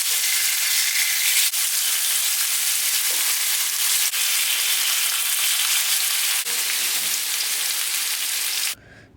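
Chicken breast pieces frying in oil on a grill pan over a medium flame, a loud, dense, continuous sizzle close by that cuts off abruptly near the end.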